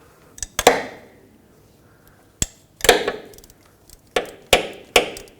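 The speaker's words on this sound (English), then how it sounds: "with a 12mm, I'm going to loosen up these 2 bolts here" Sharp metallic clicks and knocks sound close by as a 12mm wrench works loose two power steering pump bolts, coming in short irregular bursts with quiet pauses between them.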